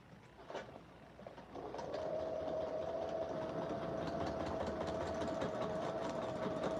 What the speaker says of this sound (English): I'm going to straight stitch the right sides together.